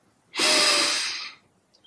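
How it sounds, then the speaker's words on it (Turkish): One loud, close, breathy rush of air lasting about a second, taken during a group breathing exercise at the Women of the World festival in Istanbul. "nefes alıp veriyoruz"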